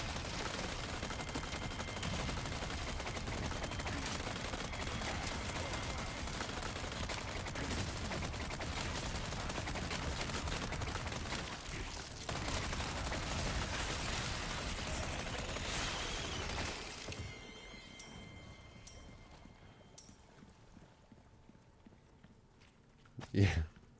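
Rapid automatic bursts from a Chicago Sweeper gun in a video game, a long dense stream of overlapping shots that runs steadily for most of the clip, then drops away to a few scattered sharp reports and one loud final blast.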